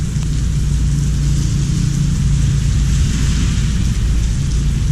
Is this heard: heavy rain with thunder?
yes